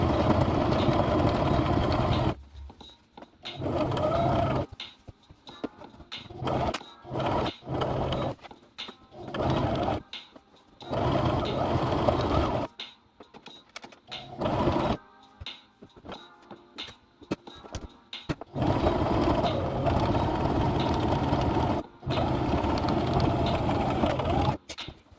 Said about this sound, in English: I'm going to sew all these pieces together.